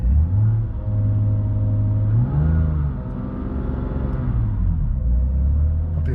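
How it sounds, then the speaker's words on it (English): A BMW F82 M4 is driven, its engine and intake making a loud, steady low drone that rises and falls in pitch as the revs change, with no talking. "But the induction noise is pretty good."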